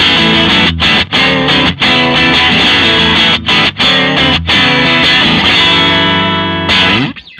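An electric guitar runs through a hand-wired Japanese distortion effect pedal, producing loud, thick, sustained distorted chords with a few brief choked breaks before the final chord rings out and fades.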